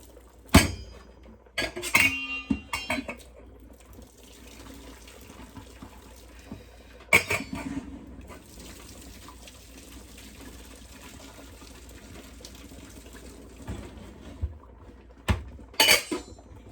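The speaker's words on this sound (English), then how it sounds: "I'm just gonna take a little bit of the water out" Water splashes and pours from a pot, with metal clanks of the pot being handled at the start, middle and end.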